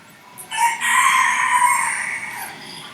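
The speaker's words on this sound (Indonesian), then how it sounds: "Di setiap video selalu ada bunyi background suara ayam berkokok" A rooster crows at home, one long, loud cock-a-doodle-doo rising and trailing off fairly close by, heard alone.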